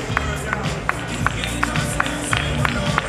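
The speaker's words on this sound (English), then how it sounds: "A round of applause for all our 10 finalists, please." A pageant audience claps for the ten finalists of the Carnival Calabar Queen 2010 contest, a broad crowd roar with crisp individual claps standing out, loud and continuous in a large hall.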